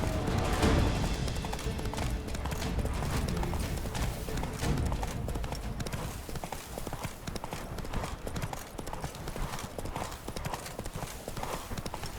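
Roach, a horse in The Witcher 3: Blood and Wine, gallops with fast, steady hoofbeats close up, a brief snort near the start, over a continuous game soundscape with a faint voice.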